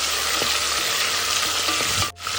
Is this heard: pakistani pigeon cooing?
no